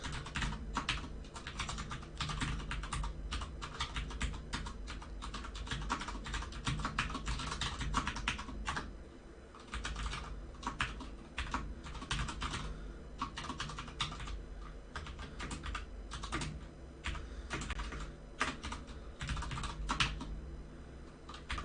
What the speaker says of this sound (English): Oh man, all this typing.